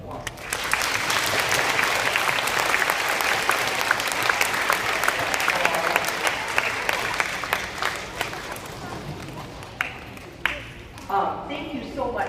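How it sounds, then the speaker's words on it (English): A crowd of school fundraiser helpers gives a loud sustained round of applause that fades to scattered claps near the end, with people talking under it. "Give yourselves a nice round of applause."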